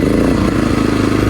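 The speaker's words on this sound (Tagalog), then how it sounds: "Choke natin ito para uminit ang makina." A small generator engine runs with the choke on to warm the cold engine, giving a steady, loud, close putter with a low pulsing rhythm and no talk over it.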